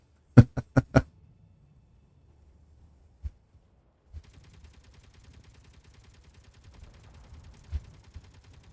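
Gunfire in the space-building game Space Engineers: a quick burst of four loud, sharp shots, a lone report a couple of seconds later, then a low rumbling stretch with faint crackles and one more thud.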